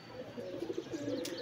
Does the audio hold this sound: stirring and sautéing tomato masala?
no